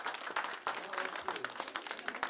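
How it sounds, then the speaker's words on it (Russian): Audience applause after a kindergarten children's show: dense, steady clapping from a full hall of spectators, loud and continuous throughout with no speech over it. "Под конец аплодировали буквально все зрители."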